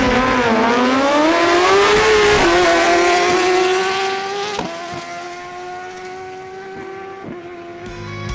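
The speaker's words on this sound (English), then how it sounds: "The next duel is between two Suzuki GSX-R1000s ridden by Andres Camargo and Edward Manzano." Suzuki GSX-R1000 sport bikes at a drag race, engines screaming loudly at high revs with rising pitch and sharp drops at each gear shift, steady and close with no talk.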